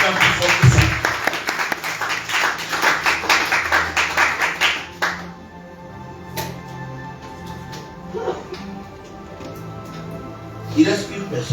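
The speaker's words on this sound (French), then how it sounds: "Est-ce que tu peux acclamer très fort le Seigneur? Acclame plus fort que ça." A church congregation at a Sunday worship service claps in rapid bursts, then the applause fades into a quieter hall where voices carry and scattered claps return near the end.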